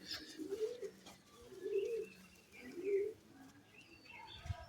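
A racing pigeon, a male, coos in three rounded, throaty phrases about a second apart, fairly close against a quiet background with faint chirps.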